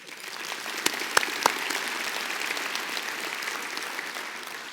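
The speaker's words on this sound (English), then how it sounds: "So how about a big round of applause for AECOM?" A luncheon audience at a floodplain managers' conference claps for the sponsor AECOM, moderate steady applause from a large room with a few sharp, close hand claps standing out near the start.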